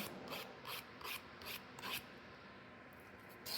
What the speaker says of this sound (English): You can come in with your 180 grit file, just clean it up so that there's no bends in it